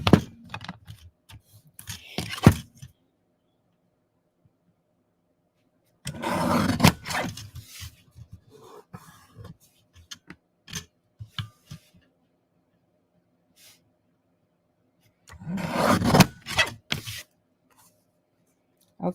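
Craft paper for an autumn thank-you card being trimmed, three bursts of close scraping and cutting separated by quiet pauses, with no talking.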